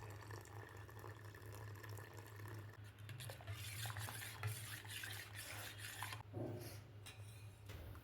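Health mix porridge is stirred in a pot while cooking, giving soft scraping, swishing strokes and occasional clinks of a spoon against metal over a low steady hum in a home kitchen.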